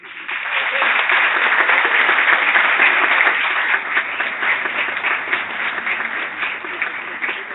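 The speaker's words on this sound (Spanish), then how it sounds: "Damos un afectuoso aplauso" A room full of people applauds warmly, a dense wash of clapping that holds steady, then gradually thins out.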